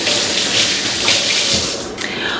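Tap water runs steadily into a kitchen sink, rinsing measuring cups used for a shortening-based freezer cookie dough; a loud, continuous splashing hiss that briefly shifts near the end.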